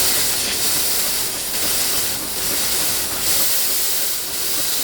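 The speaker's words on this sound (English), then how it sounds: "step one is to clear out the steam wand." Steam wand on an espresso machine purging, a loud continuous hiss of steam with slight pulsing surges, close and alone without speech.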